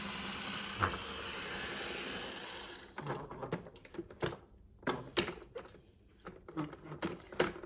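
Rowenta XPLORER 130AI robot vacuum whirs steadily for a few seconds, then breaks into quieter, irregular clicks and clattering bumps as it rolls away across the floor.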